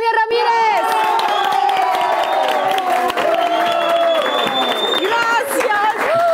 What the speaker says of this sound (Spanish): Un fuerte aplauso para Natalia Ramírez